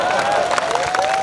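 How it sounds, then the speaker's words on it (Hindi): A crowd at a Hindi poetry gathering claps loudly and steadily, with a sustained vocal tone riding over the continuous applause. "ताली बजाओ तो।"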